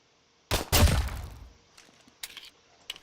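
Gunfire from gamepass weapons in a Roblox game: one sharp loud shot with a quick follow-up and decaying tail, then a few fainter shots spaced out behind it.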